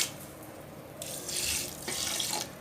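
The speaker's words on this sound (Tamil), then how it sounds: "இந்த சர்க்கரை வந்து மூழ்கிற அளவுக்கு மட்டும்தாங்க தண்ணி ஊற்றணும்." Water poured from a tap or jug onto sugar in a pan to make sugar syrup for boondi laddu, a steady splashing pour in two close bursts, alone and fairly near.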